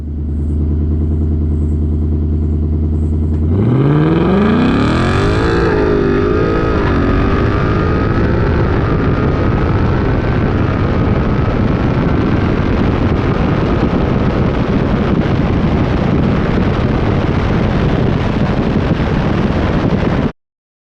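A 2024 Mustang with a rear wheel and tire combo, X-pipe and air filter launches hard on a drag test run, its engine roaring and climbing through rising gear pulls, then holding a loud, sustained full-throttle drone with wind rush.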